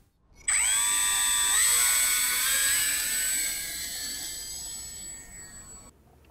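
A small electric motor on an E-Flite Micro Draco RC plane spins up into a loud, steady high-pitched whine that holds through takeoff, rising in pitch early on and then easing slightly before cutting out near the end.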